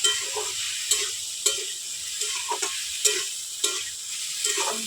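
Potatoes stirred into okra frying in a pan, a continuous soft sizzle with a spoon knocking against the pan in a regular stirring rhythm, close and alone.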